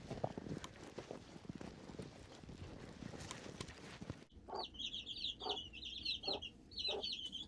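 Soft, high peeping and chirping of young chicks, repeated in quick bursts after a stretch of rustling and clatter, close by.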